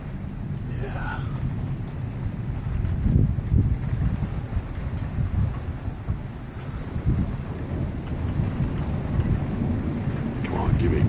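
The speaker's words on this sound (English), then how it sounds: "We're having a pretty good lightning storm right now." Deep thunder rumbles and swells during a close lightning storm in Idaho Falls, with a few louder rolling surges over a constant low roar, and a faint voice briefly underneath.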